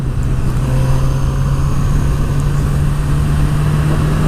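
A Suzuki GSX-S1000 motorcycle climbs uphill under a steady, loud engine drone with a constant low hum and wind rush, no gear changes, heard close from the rider's position.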